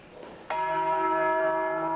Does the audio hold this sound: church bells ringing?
yes